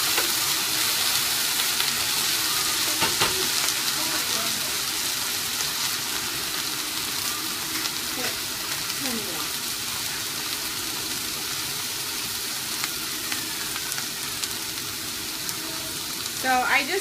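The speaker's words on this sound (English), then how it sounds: "So I just let that fry for a couple of minutes until they're just slightly brown" Fries sizzle and crackle steadily in hot oil in a home kitchen, a continuous close hiss with a few faint clinks, and a voice speaks briefly over it.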